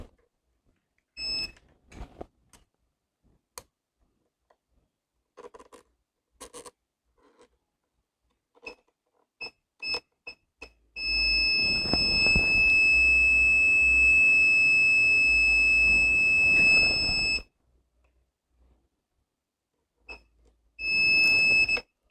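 Multimeter in continuity mode probing a Dell Inspiron 15 laptop board with a no-power fault: short beeps at first, then one long steady tone of several seconds, then another sustained beep, among faint clicks and handling noise.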